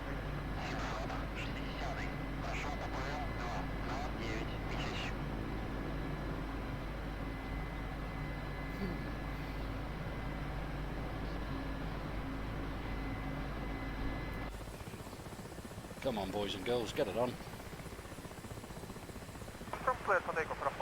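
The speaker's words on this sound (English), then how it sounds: "Just wait for finishing loading the helicopter here." Helicopter in the DCS flight simulator game at an oilfield, with a steady droning turbine and rotor hum running throughout, joined by radio-style voices talking over it.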